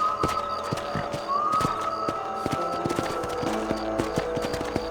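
A horse clip-clops at a steady gallop in the Western video game Red Dead Redemption, rhythmic hoofbeats running throughout over a low ambient bed, with a brief whinny-like tone early on.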